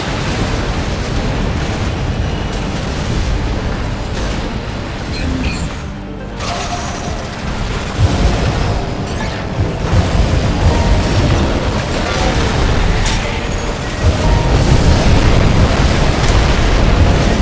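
Continuous loud rumbling blasts and crashing booms from explosions in the video game Armored Core 6, dense and unbroken, with heavier surges partway through.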